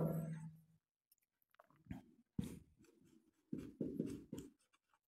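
A pen scratches across paper while a letter is written, in short irregular bursts of close, soft scribbling separated by brief pauses, with no talking.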